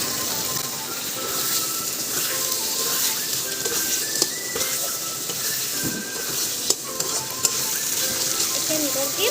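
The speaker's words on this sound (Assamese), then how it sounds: "আলু দি ভাজি তাৰপিছত" Potatoes fry in a pan with a steady, loud sizzle while being stirred, with scattered clicks and scrapes from the utensil over the continuous hiss.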